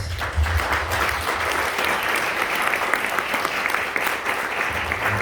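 An audience at a live presentation breaks into loud, sustained clapping in honor of a man present, a dense steady roar of hands lasting several seconds, fairly close and with no talk on top.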